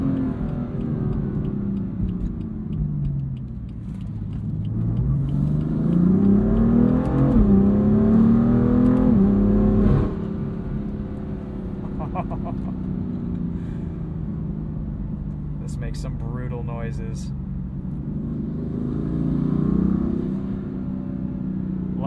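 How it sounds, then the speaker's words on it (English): 2015 BMW M4 DCT with a 530 hp turbocharged engine spooling up at quarter throttle, a steady rising engine drone with a whooshing swell, followed by a few small crackling burbles on the overrun. "Sound the turbos make when they spool up at quarter throttle. A few little burbles there on the overrun."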